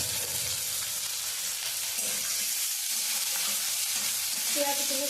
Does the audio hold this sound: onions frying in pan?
yes